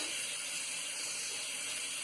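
Tap water runs steadily at a bathroom sink during a wet shave, a constant broadband hiss and splash with no break for the full stretch.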